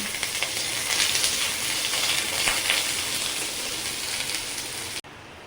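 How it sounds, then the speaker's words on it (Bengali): Pointed gourd (potol) frying in oil makes a dense, steady hiss like rain, loud and close, which cuts off abruptly near the end. "বটলটা ভেজে নিচ্ছি"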